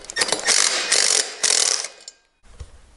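A ratchet wrench clicks in quick bursts of rapid pawl ratcheting while loosening bolts near the brake caliper of a stretched 232cc Honda Ruckus scooter, loud and close, with three strokes followed by a pause and a softer final movement.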